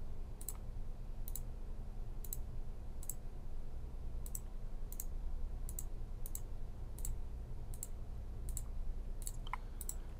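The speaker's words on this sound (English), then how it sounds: "And now a couple of clicks to create my wires." Computer mouse clicks while wires are drawn in Automation Studio electro-hydraulic circuit software: about a dozen crisp, evenly spaced clicks over a steady low hum.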